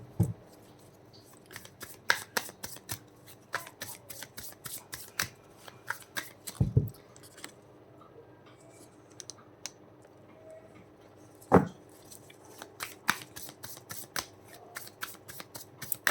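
Tarot cards being shuffled by hand, a steady run of crisp riffling flicks and snaps repeated through the stretch, close and fairly quiet, with a couple of louder slaps and no talking.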